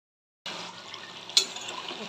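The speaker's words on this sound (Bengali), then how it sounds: "এখন আমি এটার মধ্যে জল দিয়ে দিচ্ছি।" Water splashes into a pan of frying chicken with a sudden hissing rush after a moment of silence, settling into a steady sizzle with one sharper spurt, close and fairly soft.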